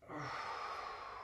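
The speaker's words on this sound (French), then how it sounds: "J'inspire. Et j'expire." A steady, close breath exhaled during a golf strength and fitness exercise, a soft airy rush lasting about a second with no talking.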